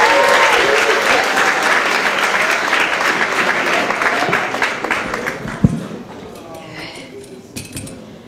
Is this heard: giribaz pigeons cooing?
no